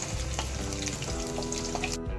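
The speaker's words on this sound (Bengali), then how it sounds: "কাঁচকলা গাজর আর মিষ্টি আলু সবগুলো একসাথে ভেজে নিচ্ছি" Raw banana, carrot and sweet potato pieces fry together in hot oil, giving a steady, dense sizzle with soft crackle throughout, close and continuous.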